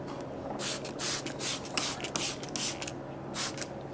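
Short bursts from a spray bottle misting distilled water mixed with a little dish soap, about eight quick hissing squirts in an uneven rhythm, close and fairly quiet with some light rubbing between them.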